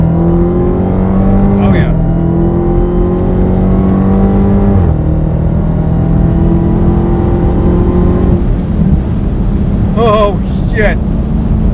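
A 2018 Mustang in sport mode accelerating hard from about 55 mph, the engine note climbing steadily through gears with brief shift breaks, loud and close inside the cabin, with short excited exclamations from the driver.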